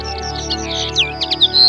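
Wild birds chirp and sing in a natural field at Plaines-Villes, Ploufragan, Brittany, with several overlapping high tweets and calls over a steady background hum, close and moderately loud.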